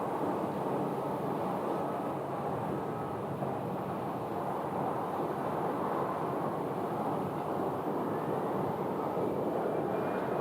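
A jet airliner's engines roar steadily at Phoenix airport, a broad, loud, sustained rumble with a buzzing edge that holds without a break, with no one talking.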